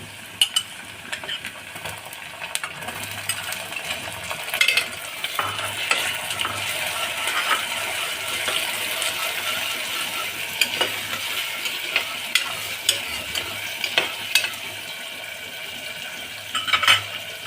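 Onion, garlic and tomato frying in oil for a cauliflower and potato curry, with a spoon stirring and scraping the pan: continuous sizzle broken by irregular clinks and scrapes of utensil on metal, close and fairly loud.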